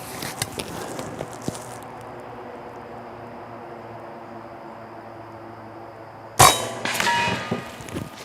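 A .25 caliber PCP air rifle pellet striking a cinder block: one sharp, bright impact crack against quiet outdoor background hiss, followed by a brief ringing decay.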